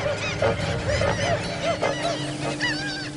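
Thousands of birds crowd the runway of Corumbá airport in the Brazilian Pantanal, their honking cries overlapping in a steady, noisy din of repeated goose-like calls, near and fairly loud, with no voices.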